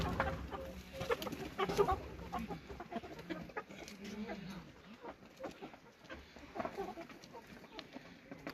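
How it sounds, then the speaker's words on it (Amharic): Male Dutch-breed F1 chickens at a poultry breeding centre cluck and chatter in a busy flock, with scattered calls rising over a continuous low murmur of birds nearby. "ይህ የፓዊ ዶሮ ብዜት ማዕከል ነው።"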